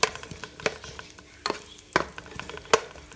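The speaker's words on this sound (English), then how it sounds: "So we can start frying up the onion" Soft sizzling of onion frying in a pan with intermittent scraping and stirring clicks from a utensil, fairly quiet, with no talking.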